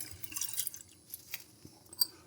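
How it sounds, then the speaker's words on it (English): Dry lentils are added to a bowl of water, producing soft splashy, wet patters and a few small drips close by, quiet and irregular. "Let's add our lentils to a bowl of water."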